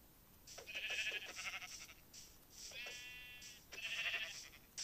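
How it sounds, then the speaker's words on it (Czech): Sheep in Minecraft bleat three times, each a short wavering baa, faint and set apart by brief pauses. "Hele, ovce"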